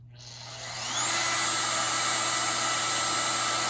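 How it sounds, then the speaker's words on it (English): A wood router runs on a Grecell T-500 portable power station. Its motor spins up over about a second into a loud, steady high-pitched whine and roar that holds constant. No one speaks. "I'm going to go ahead and try the router."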